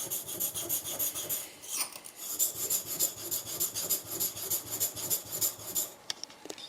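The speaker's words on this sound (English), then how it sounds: "So now you were sharpening this way, so the steel will curl up this direction." A Japanese leather plane blade is worked back and forth on a whetstone, giving a rhythmic rasping scrape in repeated strokes, close and fairly quiet.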